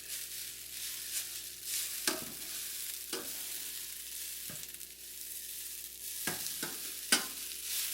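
Scallop Cantonese chow mein fries in a pan with a continuous bright sizzle. Several sharp scraping and clattering bursts recur as the noodles are turned and flipped.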